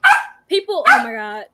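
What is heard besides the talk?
dog barking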